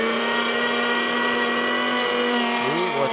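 A homemade grinder motor runs steadily, milling sugar into powdered sugar for bee candy, giving a loud, continuous whine with strong even tones that dip and waver slightly near the end as the load shifts.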